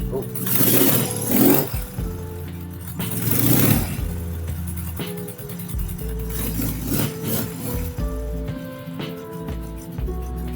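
A BMW R100 motorcycle engine idles and runs nearby with a steady low throb and a few blips of throttle, while wind-like noise rustles over it.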